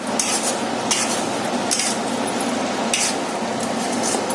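Tomato pickle cooking in oil in a pan bubbles and sizzles steadily, a dense, continuous crackle close by with occasional brighter spits and stirring clinks, no talk.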